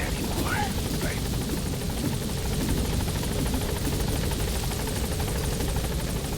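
Support helicopter arriving in Metal Gear Solid V, a loud continuous rotor roar and fast blade chop that stays steady and close throughout, with no speech over it.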